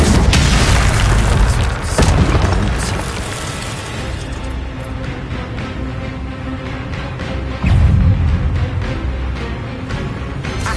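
In the Hogwarts Legacy video game, cast fire spells burst with deep booming whooshes: a loud hit at the start, another near two seconds and a third near eight seconds, each trailing into a low rumbling game backdrop.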